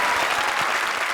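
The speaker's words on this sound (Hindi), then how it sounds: "और प्रिंस के लिए एक बार फिर से जोरदार तालियां" Loud, dense applause from a television comedy show audience for the performer Prince, many hands clapping together in a continuous close wash.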